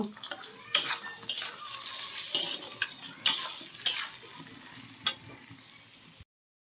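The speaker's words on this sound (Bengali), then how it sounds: "দিয়ে একটু ভালো করে কষে নেব ভালো করে এটাকে কষব" A spoon stirs spice masala with chilli powder frying in a pan, with irregular metallic scrapes and clinks over a soft sizzle, then a sudden stop.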